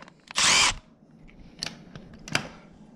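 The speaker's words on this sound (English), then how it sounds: "So it looks like that's a 10 millimeter. We'll just unscrew that." A power driver unscrews a 10 millimeter bolt on a power rake. One brief, close, high whir is followed by a few sharp clicks and taps of handling parts.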